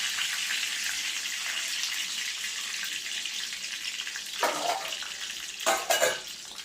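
Mixed-dal appe and curry leaves frying in hot oil make a steady, even hiss, with a couple of brief louder crackling bursts near the end and no speech.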